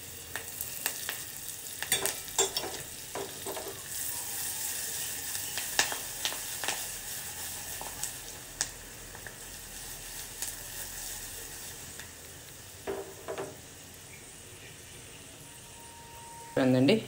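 Curry leaves frying in tempering oil, a soft close sizzle with intermittent stirring clinks and scrapes, faint hiss in between and a louder clatter at the end; no talk.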